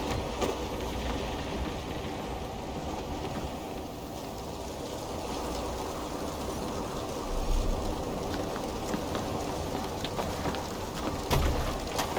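A thunderstorm rages in Assassin's Creed Valhalla, with continuous heavy rain hiss and low rumbling thunder, including a few louder swells near the end.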